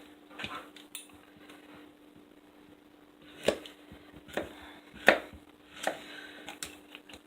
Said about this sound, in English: we got our squash chopped up